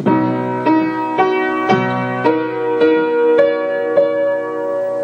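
A piano's left hand sounds a G and a C together in a steady repeated rhythm, about nine clear struck notes with sustained ringing tones between them, close and moderately loud, with no voice.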